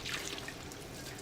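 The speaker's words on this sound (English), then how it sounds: "Let me rinse this off." Something is rinsed under a running tap, with a steady, soft trickle and splash of water that stays fairly faint throughout.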